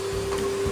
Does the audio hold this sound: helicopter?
no